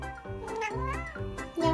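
A cat lets out several drawn-out, talkative meows in quick succession, close and clear, with no other voices heard.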